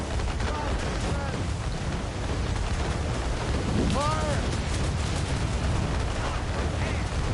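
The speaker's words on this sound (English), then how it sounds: "They are firing a volley! Enemies firing!" Enemy ship cannons fire a volley in Assassin's Creed Rogue during a naval battle, a dense rumbling barrage of booms blending into a continuous roar with faint voices layered over it.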